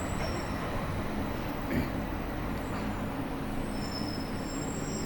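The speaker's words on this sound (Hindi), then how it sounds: "ये बस 1 मिनट का ही ट्रेन राइड था।" Steady rumble of a short airport train ride at Munich Airport, with a continuous rolling hum of wheels on rails, a faint squeal and a brief bump, no talking.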